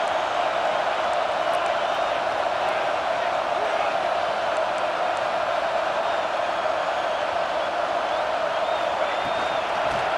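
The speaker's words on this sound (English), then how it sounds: "It's early, but this crowd is fired up." Steady roar of a stadium crowd in EA College Football 26 at an LSU home game against South Carolina, a continuous loud wash of cheering and noise with no clear breaks across the whole stretch.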